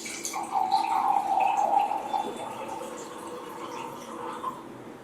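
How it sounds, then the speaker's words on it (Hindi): Water poured from a portable alkaline water jar into a container, a steady mid-pitched splashing stream that swells near the start and then slowly thins and fades, with no talking. "अब यही तीनों में हम हमारा अल्कलाइन एक्वावेदा जो पोर्टेबल जार है उसका पानी ऐड करते हैं"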